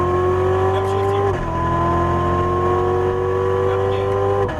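A Chevrolet Corvette Stingray Z06 engine pulls hard on a race track, its rising tone dropping sharply at an upshift near the start, then climbing steadily again, loud and close from inside the car.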